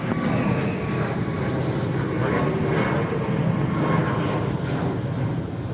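A Southwest airliner lands at Nashville airport, and its jet engines roar steadily and loudly throughout with a broad, constant rumble and no voices.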